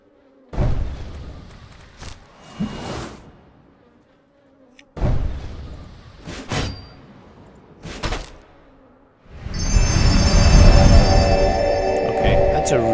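Loud end-of-turn effect in the turn-based fantasy game Blackguards, a dense, buzzing swell that rises sharply near the end and holds steady, following several shorter bursts of game sound.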